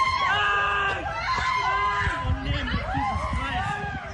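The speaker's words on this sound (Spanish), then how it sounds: "Los gritos son desoladores." Several people scream in distress during a knife attack at a children's playground, with agitated shouting and crowd hubbub layered over one another, loud and close throughout.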